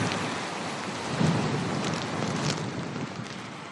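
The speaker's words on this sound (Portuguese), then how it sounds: "uma madrugada que já tinha sido de chuva e vento intensos" Heavy rain and strong wind lash Lisbon during an overnight storm with gusts up to 130 km/h, a dense, steady hissing roar that swells briefly partway through.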